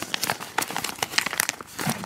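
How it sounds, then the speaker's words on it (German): A plastic bag is torn open up close, with dense irregular crinkling and rustling bursts of crackle throughout. "mache ich mal die Tüte auf"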